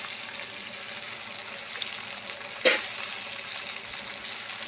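Food fries quietly in a pan with a soft, steady sizzle. A single sharp crackle or clink stands out midway.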